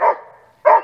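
A dog on an outdoor walk barks twice, close and loud, with a short gap between the barks.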